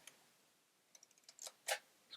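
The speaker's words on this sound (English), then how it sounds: "It's quite a noisy camera." A Topcon Wink S mirror camera's shutter mechanism gives a quiet run of small mechanical ticks, then a sharper, louder click close by.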